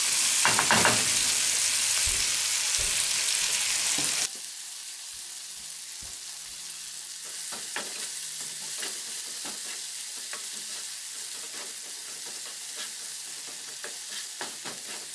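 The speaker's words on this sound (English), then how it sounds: "I'm going to saute the red onions in the leftover bacon fat or olive oil about 3 or 4 minutes" Red onions sizzle in a small pan of leftover bacon fat or olive oil, a steady loud hiss that drops to a softer frying crackle partway through, with faint stirring taps and no voices.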